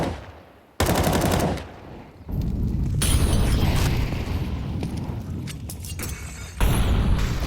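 Gunfire and grenade explosions in a Counter-Strike professional match, loud machine-gun bursts and booming blasts cutting in abruptly and rumbling on for several seconds, with no voices.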